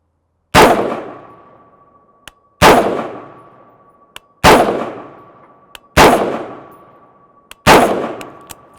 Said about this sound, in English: let me go ahead and try that out with 5 shots